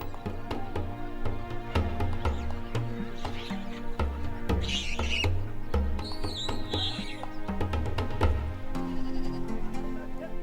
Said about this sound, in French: Les hommes-fleurs possèdent de superbes troupeaux de chèvres considérés comme les plus belles de la péninsule arabique.